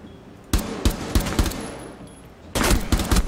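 Rapid bursts of automatic gunfire in the online shooter Rainbow Six Siege, loud and close, in two clusters of sharp repeated shots separated by a short lull, with no talking.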